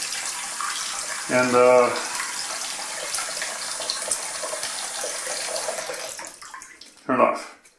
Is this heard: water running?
yes